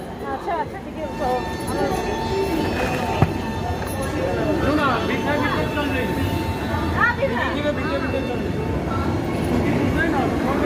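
A Vande Bharat train on the Bhubaneswar–Rourkela route passes by, a continuous rail rumble heard from aboard another train, with voices talking throughout.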